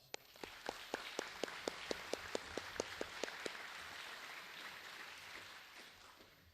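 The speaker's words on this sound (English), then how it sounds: "Let's give them a round of applause" Audience applause at a school all-sports banquet, sharp distinct claps in a steady rhythm at first, then thickening into a dense wash of clapping that gradually fades, moderately distant in a large room.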